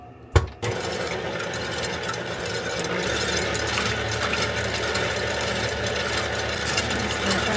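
Electric hand mixer beating cake batter with water and coconut oil, switching on with a click and then running at a steady close whirring hum that continues unbroken.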